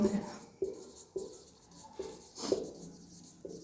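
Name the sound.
writing the solution by hand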